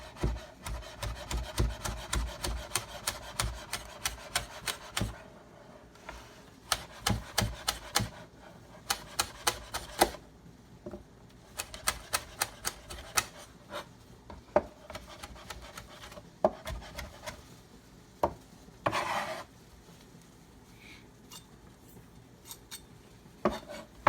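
A knife chops ingredients finely for saltfish rundown on a wooden board, in quick rhythmic bursts of crisp taps separated by short pauses, close and clear with no talking.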